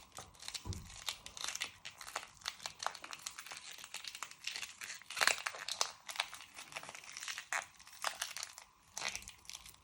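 Dry, papery outer layers are peeled from an onion, giving a steady stream of close, quiet crinkling and crackling with irregular small snaps throughout, and no voices over it.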